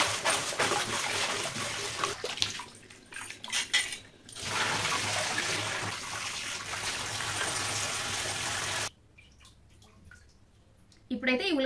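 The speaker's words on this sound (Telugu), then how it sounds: "ఇప్పుడు ఈ ఉల్లిగడ్డల్ని మట్టేమీ లేకుండా వాటర్లో వేసి కడిగేసుకుందాం" Onions are washed in a bowl of water in a home kitchen, with splashing, sloshing and clinking of the bowl in irregular bursts, then quieter drips.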